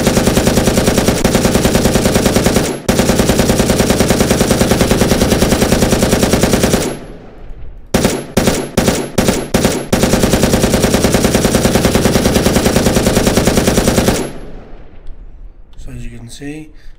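Machine gun in the video game Will to Live Online firing long sustained automatic bursts, loud and close, then a series of short choppy bursts and another long stream, ending with someone speaking.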